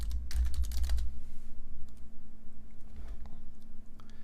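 Fast clicking of keys on a computer keyboard, close and clear, densest in the first second and then thinning to scattered taps over a low steady hum.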